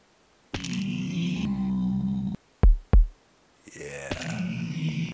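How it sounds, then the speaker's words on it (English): A throbbing machine heartbeat from the iron lung build in Minecraft: deep droning pulses with a sharp double thump in the middle, loud and close, with no talk. "the heartbeat of the machine"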